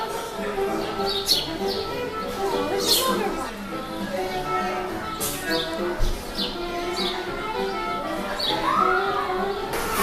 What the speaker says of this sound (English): And we're joined by the birds.